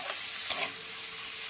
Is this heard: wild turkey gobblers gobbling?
no